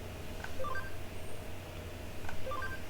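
Touch-tone phone dialing beeps from a Digimon video game, two short bursts of paired tones about two seconds apart over a steady low background hum.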